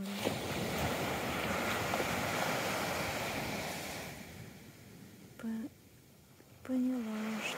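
Surf rolling continuously onto the shore with wind noise buffeting the microphone; the waves ease off and a brief voice cuts in near the end.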